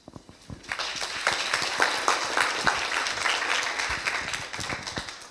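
An audience at an innovation camp presentation applauds with steady, dense clapping that swells quickly after a quiet start and holds at a moderate level, with no voices over it.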